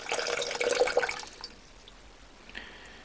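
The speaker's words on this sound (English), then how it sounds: "now we'll start adding the water" Water poured from a container into a beaker of potassium bromide, a close, bright splashing burst that fades after about a second and a half into quiet trickles and a brief late splash.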